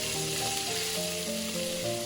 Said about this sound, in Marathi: एका मागोमाग एक अशा सगळ्या भाज्या घालून मी परतून घ्यायचं